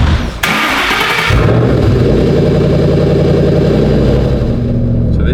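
A 5.4-litre V8 in a Shelby GT500 SVT barks loudly after a brief dip, then settles into a steady, rumbling idle that carries on close and strong without a break.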